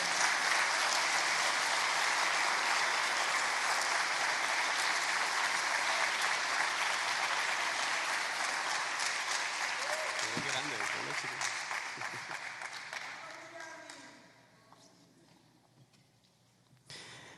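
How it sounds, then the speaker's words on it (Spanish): A crowd fills the space with broad, sustained clapping that holds steady, then thins and fades away over the last several seconds. A voice briefly rises partway through. "el aplauso es para Él"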